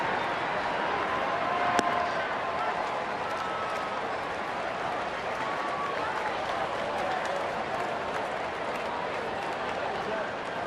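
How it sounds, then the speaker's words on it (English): Capacity baseball crowd at PNC Park cheering after a home run, a continuous loud roar with clapping spread across the stadium, steady throughout with a brief sharp crack near the start. "this capacity crowd is buzzing now"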